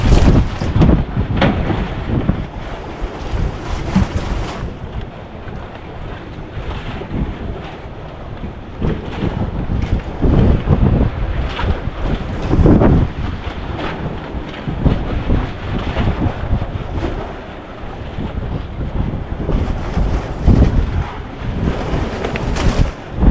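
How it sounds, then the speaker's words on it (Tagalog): Big sea waves, about five feet high, surge and crash around a boat at sea while strong wind buffets the microphone in a loud, continuous roar with rolling swells. "Oh, malaki ng alon."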